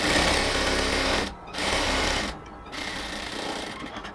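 A sewing machine double-stitches a seam on a ladies' pant, running loud and steady in three bursts with brief pauses between them.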